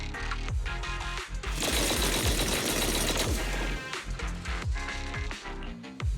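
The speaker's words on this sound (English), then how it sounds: "That was the sound of a heavy cannon?" Heavy cannon firing in the video game Zenless Zone Zero: a loud, rapid barrage of booming and cracking blasts, dense and continuous through the middle, with sharp repeated impacts before and after.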